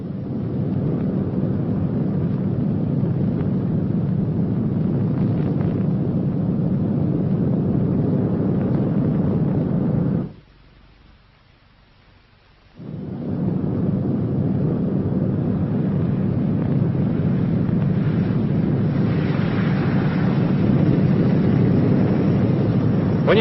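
Loud, steady piston-engine roar of a B-29 bomber on landing approach, with flaps fully down and touchdown near 95 to 100 mph, dropping out briefly midway before resuming at full strength.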